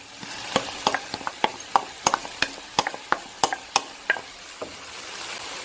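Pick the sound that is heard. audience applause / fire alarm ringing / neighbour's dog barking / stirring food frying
stirring food frying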